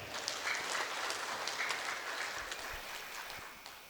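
Audience applause fills a formal council plenary session hall at an anniversary ceremony in Konawe, a steady broad wash of clapping from many hands held at an even level throughout with no voices.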